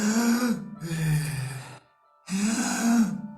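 A voice imitates breath driven from the diaphragm: two long, drawn-out voiced breaths, then a short pause and a third, close and fairly loud, with no words.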